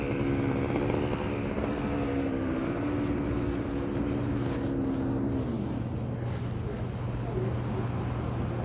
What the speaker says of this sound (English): That scooter definitely makes a lot of noise compared to my electric scooter.